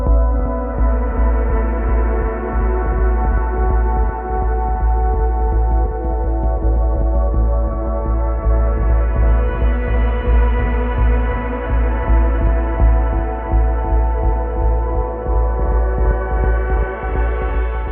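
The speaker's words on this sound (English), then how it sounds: "little module that can pick up a local gospel station, and I used to sample that a lot" A local FM gospel radio station is picked up by a small Eurorack module and sampled, giving a dense, steady harmonic drone with a throbbing low pulse that holds for the whole stretch.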